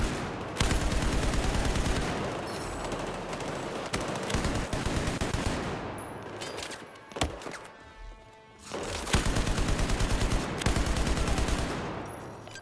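Bursts of machine gun fire in the video game Battlefield 4, long loud rapid strings of shots broken by short pauses, close and dominant with no talking.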